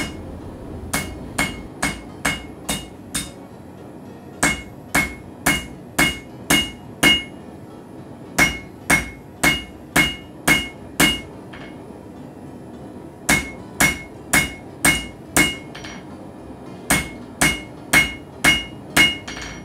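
A hammer forges the twist ridges and taper of a steel wand, ringing out in close, loud bursts of four to six sharp, evenly spaced blows separated by short pauses.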